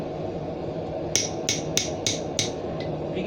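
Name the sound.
blacksmith hammering a hot chisel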